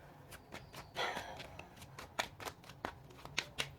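Tarot cards are shuffled and handled up close, a quick series of crisp riffles and soft flicks in uneven bursts, quiet overall.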